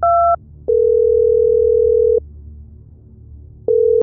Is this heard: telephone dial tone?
yes